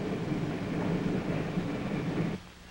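A passenger train sits at a station, giving off a steady low rumble and hiss that holds for over two seconds and then drops away to a quieter hum.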